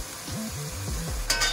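Ginger is dropped into a hot pan for a beef and celery stir-fry and gives a steady close sizzle, with a brief clink near the end, under background music.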